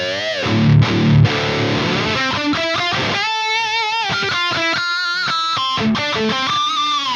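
Electric guitar played dry through a Marshall amp with no delay, a distorted, sustained run of chords and single notes, loud and close, with no speech.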